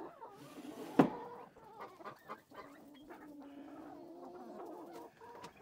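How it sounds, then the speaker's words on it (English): Roosters cluck in a snowy backyard coop in Upper Michigan, with a short loud squawk near the start and then steady low clucking and murmuring from several birds. "Seven roosters."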